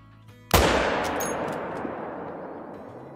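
A hunting rifle firing at a distant animal in Call of the Wild, zeroed for 320 yards: a single sharp, loud report with a long echoing tail, heard alone.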